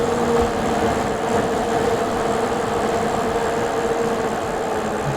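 A Vanpowers Manidae electric bike rolls along a road at speed, with steady broadband wind and tire rumble throughout and a faint motor whine, constant and unbroken from start to finish.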